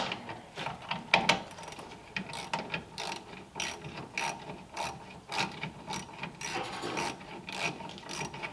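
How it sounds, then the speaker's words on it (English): A ratchet cranking a bolt tight on the shaved trunk lid of a 1938 Ford convertible, rapid close clicking in repeated bursts of strokes with brief pauses between them. "Although putting it on the bottom like that, I can really crank it tight."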